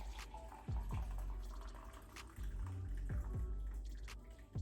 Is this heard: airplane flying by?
no